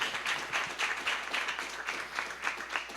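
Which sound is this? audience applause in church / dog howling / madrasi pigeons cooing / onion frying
audience applause in church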